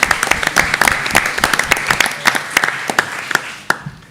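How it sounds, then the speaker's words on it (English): An audience at a school district board meeting breaks into a burst of applause, a dense patter of hand claps that holds steady for a few seconds, then thins out and fades. "let's give Dawn and her family a round of applause"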